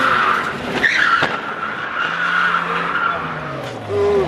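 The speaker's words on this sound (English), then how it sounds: "He drifted around me." Car tires squeal and skid loudly as a car drifts around at an amateur drift event, the screeching rising and falling over several seconds under a revving engine, with a brief voice in the mix.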